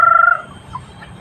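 Free-roaming chickens give a short, loud, rapidly pulsing call close by, which fades within half a second into quiet background with a faint later peep.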